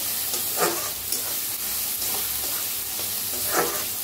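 Green chillies and onion masala fry in a pan with a continuous sizzle, while a spatula scrapes and stirs in a few bursts at a loose, uneven rhythm; no voices.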